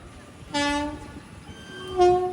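The Sabari train nears Walayar railway station in a forest, sounding two horn blasts about a second and a half apart over low rumbling rail noise, at a moderate distance.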